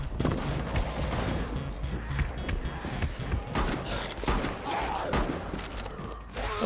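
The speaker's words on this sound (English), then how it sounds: "Shoot him!" Rapid bursts of gunfire from the video game Rainbow Six crackle through a dense, busy mix of shots and thuds, fairly loud and continuous, with a voice shouting over the action.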